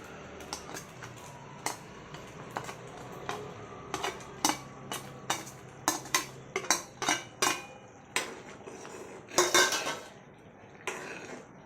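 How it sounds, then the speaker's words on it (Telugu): Repeated metallic clinks and scrapes of a spoon against a pan as fried paneer pieces are stirred into curry, irregular taps spread across the whole stretch. "వేయించి పెట్టుకున్నటువంటి పన్నీర్ ముక్కలను కూడా దీనిలో వేసి కలుపుకోవాలి"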